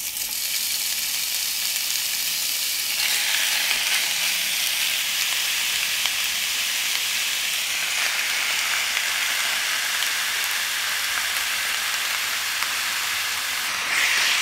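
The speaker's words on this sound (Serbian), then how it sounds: "Ulje se zagrejalo i pržim sada meso." Meat fries in hot oil in a deep pan, giving a steady, dense sizzle that runs unbroken and fairly loud close by, with no voices.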